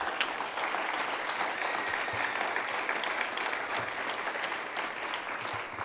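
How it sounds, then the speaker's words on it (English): A steady wash of audience applause at a city council candidate forum, many hands clapping evenly throughout at moderate loudness, with a few faint voices underneath. "how about a round of applause for these candidates?"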